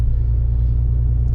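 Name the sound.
truck engine running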